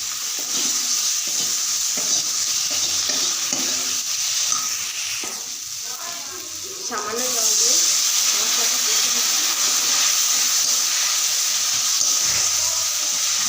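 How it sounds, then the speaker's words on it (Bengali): Spice paste with turmeric and tomato being fried down in a pan with a little water for a fish dish, a steady loud sizzle and hiss with occasional stirring scrapes, persisting throughout. "হালকা জল দিয়ে মশলাটা ভালো করে কষে নিচ্ছি"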